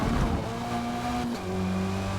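A race car engine in Forza Motorsport drones loud and steady, its pitch dropping with a gear change partway through, then holding at a new tone, with no voices.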